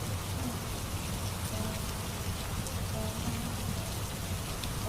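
Steady rain falls outside, a dense continuous hiss of drops on surfaces with no pauses, close and fairly loud.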